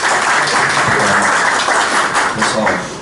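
Dense audience applause at the opening of a business forum on family holding companies, continuous clapping at full loudness for the whole stretch before fading slightly at the end.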